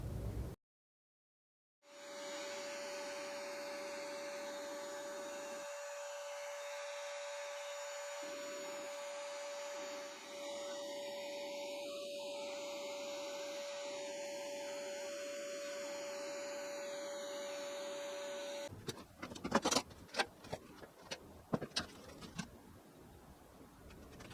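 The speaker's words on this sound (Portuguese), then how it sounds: "transformar um aspirador de pó convencional desses domésticos em um coletor de pó super eficiente para usar na sua oficina de marcenaria hobby" A household vacuum cleaner converted into a dust collector for a hobby woodworking shop runs with a steady, loud whine and airflow roar for most of the span, then cuts off into a series of clicks and knocks.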